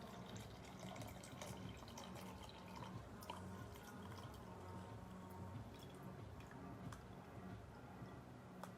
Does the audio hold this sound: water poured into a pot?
yes